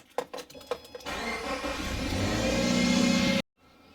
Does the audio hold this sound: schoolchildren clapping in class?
no